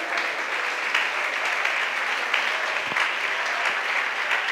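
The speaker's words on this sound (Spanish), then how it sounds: "aplauso al Señor Jesús." A church congregation applauds during a Spanish-language service, a broad, continuous wash of many hands clapping at steady loudness, with a couple of brief low thumps.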